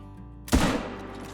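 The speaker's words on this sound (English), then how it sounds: "Let's go ahead and get a shot off once it lifts its head up." A single sharp .223 rifle shot in a hunting game aimed at an axis deer, a loud crack after brief quiet, fading into a short echoing tail.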